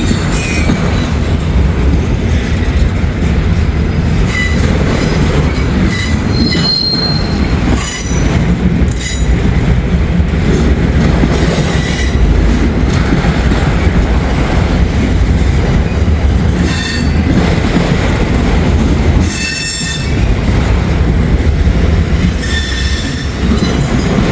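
A CSX freight train turns off the main line onto the LCL branch in Northern Kentucky, a loud continuous rumble of rolling railcars with recurring high wheel squeals on the curve, nearby and sustained throughout.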